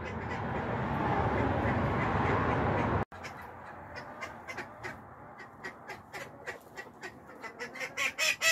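Chickens squawk and cluck in a coop on a winter morning: a dense, muffled clamor at first, then scattered, sharp calls ringing out one after another, growing louder toward the end.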